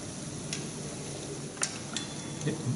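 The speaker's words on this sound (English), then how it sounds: "Our churros have now been cooking for approximately 3 minutes" Churros frying in a pan of hot oil, a steady, soft crackling hiss with a few brief sharper pops, heard close with no talking.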